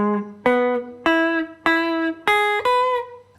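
Clean electric guitar playing an opening in a country swing style, with five ringing double-stop strikes at a steady rhythm, each note sustaining and decaying before the next, close and clear with no talking.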